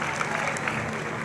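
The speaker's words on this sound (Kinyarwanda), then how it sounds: "mubakomera amashyi kandi" An audience applauds at a speech ceremony, a short, dense burst of steady clapping with a murmur of voices underneath.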